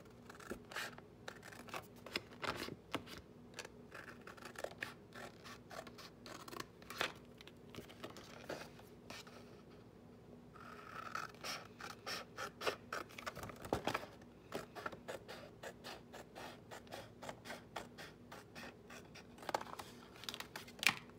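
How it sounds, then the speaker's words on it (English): Scissors snip through paper in quick, close crisp cuts, steady runs of clipping with a brief pause midway. "I'm going to use my scissors."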